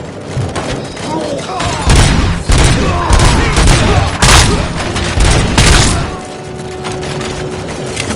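Video-game gunfire: loud bursts of rapid shots and heavy thuds come in several waves, then give way to a quieter stretch with some talk.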